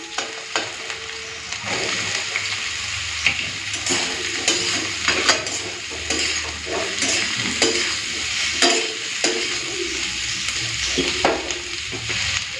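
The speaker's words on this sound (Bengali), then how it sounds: "পেঁয়াজের সাথে সাথে আমি উচ্ছে আলুটাও দিয়ে দিচ্ছি আর ভালো করে দিয়ে ভেজে নেবো" Onion, bitter gourd and potato sizzle loudly in hot oil in a pan, with continuous frying hiss broken by repeated scraping and clinking stirs of a utensil against the pan.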